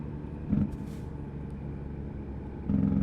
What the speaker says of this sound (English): That was the truck going brrr.